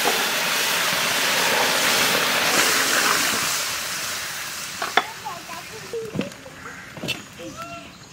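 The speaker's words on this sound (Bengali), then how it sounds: "মুগের ডালে ফোড়ন দেবো, গোটা শুকনো লঙ্কা, তেজপাতা আর গোটা জিরে।" Whole dried red chillies, bay leaf and whole cumin hit hot oil for a moong dal tempering, with a loud, bright sizzle at first that fades into sparse crackles and pops toward the end.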